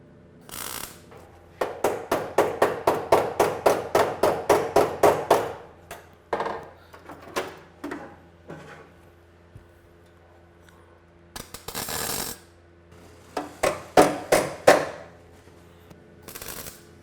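A planishing hammer rapidly taps thin, worn old car steel during pedal-area work on a Porsche 912. It sounds as sharp metallic bursts of quick, evenly spaced strikes, then shorter irregular runs separated by pauses.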